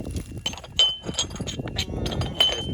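Agatized coral preform being knapped, with repeated sharp glassy clinks and ticks as flakes come off, several strikes spaced irregularly over a faint low background rustle, close and fairly quiet.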